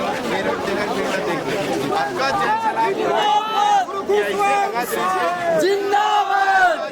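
A dense crowd of supporters at a political rally in Arang, with loud overlapping shouts, cheers and chanting voices filling the whole stretch at close range.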